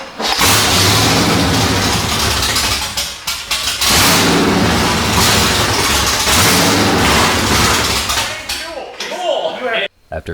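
A 1969 Pontiac GTO's 455 V8 fires in loud, rough bursts close by. The roar holds for a few seconds, drops briefly, surges again and then cuts out, with a voice faintly under the noise.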